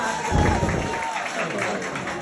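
A crowd at a bhajan-kirtan gathering in Kamal rural municipality, Nepal, claps to welcome a devotional singing group. The applause is a moderate, scattered patter heard under an announcer's voice over a PA.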